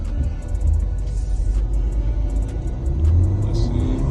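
A big car's engine pulls steadily under acceleration while driving, a low continuous rumble and whir swelling slightly toward the end, close and fairly loud throughout with no talk.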